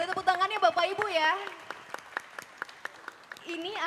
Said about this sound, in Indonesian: Boleh tepuk tangannya Bapak Ibu ya.